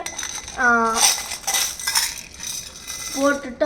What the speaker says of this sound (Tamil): ஸ்டோன்ஸை நம்ம இது மேலே அப்படியே போட்டுக்கலாம்